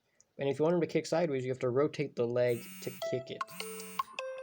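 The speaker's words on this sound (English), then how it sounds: "that was my alarm going off." An electronic alarm goes off with a series of steady, bright beeps and tones right after someone speaks indoors, the beeping continuing alone to the end.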